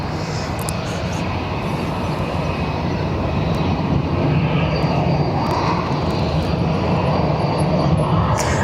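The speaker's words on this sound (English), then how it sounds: "We'll keep an eye on this American Dreamliner arriving to our right." An American Airlines Boeing Dreamliner jet arriving at Barcelona airport, a steady broad roar of engine noise that holds loud and constant throughout, heard from a distance in an open setting.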